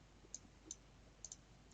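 A computer mouse clicks faintly while someone works in CATIA V5 design software: single clicks spaced apart, then a quick double click, all in a quiet room.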